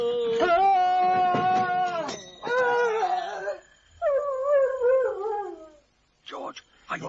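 Dogs howl and whimper in drawn-out, wavering cries that come in several bursts separated by short gaps, fairly close and loud, with a voice also heard near the end.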